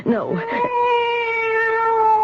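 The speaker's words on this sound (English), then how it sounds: "It's the cat." A cat used as a sound effect in a 1970s radio mystery drama gives a few short meows, then one long, drawn-out, strongly tonal meow, loud and close.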